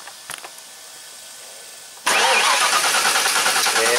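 A 393 stroker engine cold-starts after a couple of faint clicks and a quiet stretch, catching abruptly and settling into a loud, steady, slightly lumpy idle that fills the rest of the moment.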